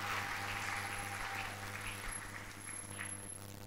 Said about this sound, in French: Est-ce qu'on peut les acclamer ensemble avec son équipe?